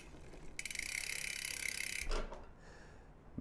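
Bicycle freehub ratchet buzzing in a fast, steady run of clicks as the wheel spins freely, close and clear, then cutting off abruptly with a few trailing ticks.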